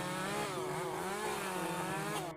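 A chainsaw sound effect with a continuous loud revving engine whine that wavers in pitch and then cuts off abruptly at the end.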